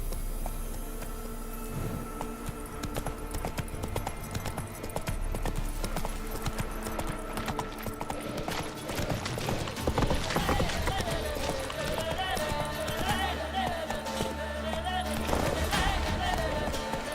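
Hooves of Roach, the horse in The Witcher 3, clip-clopping steadily at a trot through the game world, up close and continuous beneath music and ambient game sound, with a few louder bursts near the end.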